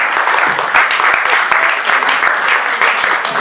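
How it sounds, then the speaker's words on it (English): Audience applause at a spoken word poetry evening for performers Dave Canning and Mervyn Cooke, a dense, steady roar of many hands clapping close and loud throughout, with no talk over it. "Another round of applause for Dave and Mervyn."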